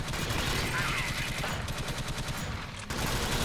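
Sustained rapid automatic gunfire from the top-down shooter Alien Swarm, a loud dense rattle of shots running almost continuously with a brief dip near the end, and a voice talking over it.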